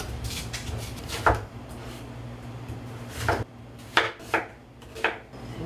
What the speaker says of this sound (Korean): 근데 이제 이거를 무를 잘라줘요